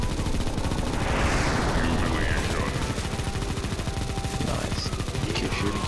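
Sustained automatic gunfire from many players in a Counter-Strike zombie escape map, heavy rapid shots layered into a loud, unbroken barrage with faint background voices mixed in.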